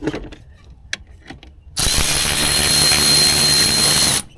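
A ratchet with an 8mm socket backs screws out of a Jeep intake manifold runner sensor: a few sharp clicks come first, then a loud, steady mechanical whirring runs for about two and a half seconds before stopping abruptly.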